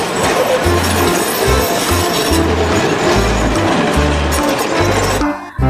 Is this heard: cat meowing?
no